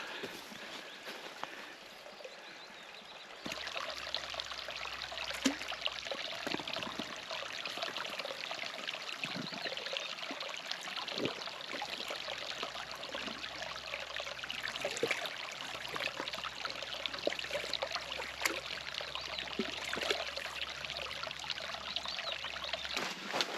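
Steady rush of a small hill stream (burn) flowing over stones, broadband and continuous, close by, with no talking.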